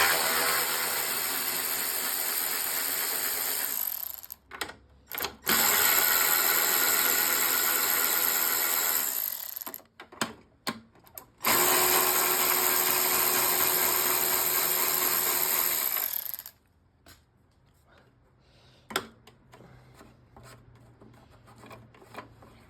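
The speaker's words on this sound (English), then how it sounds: "Let's zap these off real quick with our ratchet." A powered ratchet removes screws on a Craftsman 6.75HP lawn mower in three loud, sustained whirring bursts of several seconds each, with a few short blips between them, then quiet handling noise afterward.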